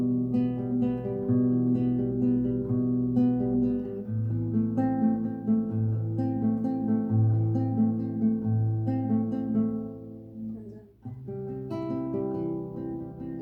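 Fingerpicked acoustic guitar playing a song's pattern, with a repeated double pluck alternating between the second and third strings. It sounds close and fairly soft, with a brief dip near the end.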